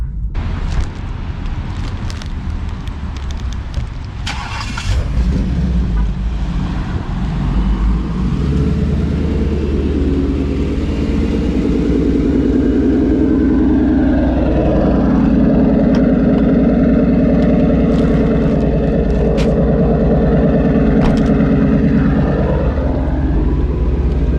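A 2019 twin-turbo Ford Mustang GT engine cranks and turns over, then settles into a steady, rough rumbling idle close by, with no voices.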